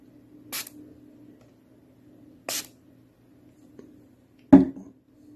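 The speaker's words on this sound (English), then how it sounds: "spray the solution on the record" Three short bursts of cleaning solution sprayed onto a vinyl record, spaced about two seconds apart, the first two hissy and airy, the last a sharper thump, over a faint steady hum.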